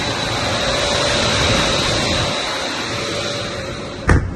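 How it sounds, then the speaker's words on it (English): A temporary centrifugal fan blower runs continuously with a loud, steady broadband roar and a thin tonal whine, then a sharp knock near the end. "Our temporary blower is still going."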